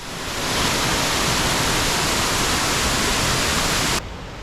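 Sabbaday Falls waterfall along a mountain stream off the Kancamagus Highway, a loud, steady broadband rush of falling water with no voices, cutting abruptly to a quieter background near the end.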